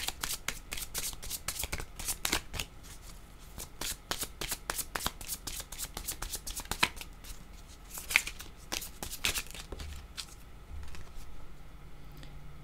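A deck of playing cards shuffled by hand in a steady run of rapid riffles and crisp flutters, close and fairly quiet, continuing with no talk for more than twelve seconds.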